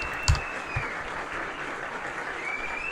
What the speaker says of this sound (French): j'ajouterai des applaudissements au montage